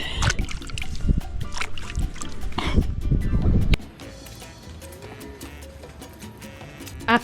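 Lake water sloshes and splashes as mud is washed off inside a volcanic crater lake, busy close splashing for a few seconds that drops to quieter trickling and faint background sounds.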